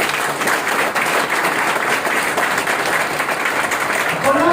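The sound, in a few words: audience applause for the speaker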